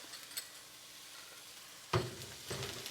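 Minced, seeded green Scotch bonnet pepper hits a hot pan with a sudden sizzling burst, followed by a second hiss as it is stirred, fairly quiet and close, with no talking.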